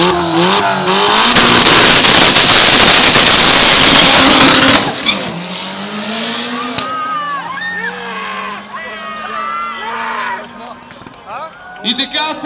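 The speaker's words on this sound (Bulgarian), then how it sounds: "дават пълна газ до финала" Race cars launching and accelerating at full throttle in a drag-style start, a loud roaring engine blast that dominates the first seconds, then rising engine tones and fading revs as they pull away, with a commentator talking over it.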